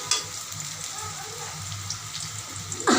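Three onions frying in hot oil for a Bengali curry with beans, potato, cauliflower and hilsa fish, giving a steady close sizzle and crackle throughout, with a brief louder clatter at the end; no one speaks.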